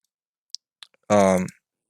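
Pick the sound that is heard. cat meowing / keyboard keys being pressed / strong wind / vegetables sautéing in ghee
keyboard keys being pressed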